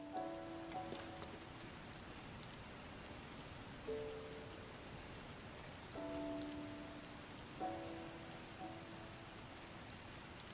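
Steady rain falls across the whole stretch in Zelda: Tears of the Kingdom, a constant hiss of drops with short tonal game chimes rising over it now and then.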